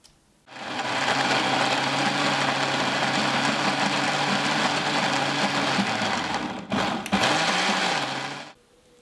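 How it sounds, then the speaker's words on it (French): An electric blender purees brined lupins with half a potato, running as a loud, steady whirring drone for about eight seconds, with a brief dip near the end before it stops. "je vais y ajouter la moitié d'une pomme de terre. Et mixer le tout."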